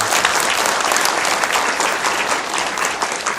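Wedding guests in a hall applauding the bride and groom, a broad sustained burst of clapping that holds steady and loud throughout, with no speech over it.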